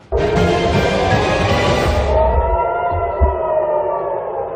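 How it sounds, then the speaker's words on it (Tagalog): A loud air raid siren in Israel, sounding over Iranian missile attacks, wails with a sustained rising and falling tone, joined by other sirens, steady and prolonged, with no talking. "Umalingaw-ngaw ang mga sirena sa West Bank at Tel Aviv, Israel dahil sa missiles ng Iran."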